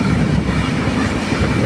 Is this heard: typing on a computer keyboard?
no